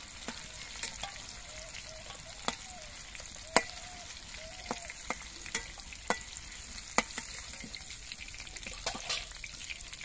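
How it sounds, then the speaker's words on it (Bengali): Prawns fry in oil with a soft, continuous sizzle, broken by sharp clicks and taps of a utensil stirring in the pan at irregular intervals. "বাকি মাছগুলো ভেজে নিচ্ছি।"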